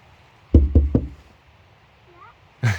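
Three quick knocks on a door in a forest setting, close and firm, followed by quiet and then a burst of noise at the end.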